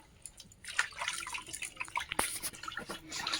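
Water splashes and drips at a village pond, with scattered drops and small sharp splashes repeating irregularly, close and fairly soft, over a quiet background.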